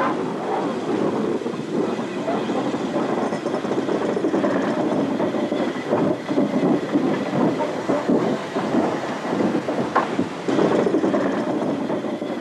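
Andrew Barclay 0-4-0 saddle tank steam locomotive built in 1914 propelling another engine, a loud steady chuffing rumble with rhythmic clanking and rail clatter running throughout, close by and without speech.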